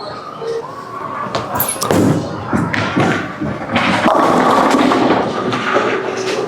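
A Storm Ascent bowling ball thrown on a house shot in a bowling alley: a heavy thud on release, then a continuous rumbling roll down the lane under busy background alley noise.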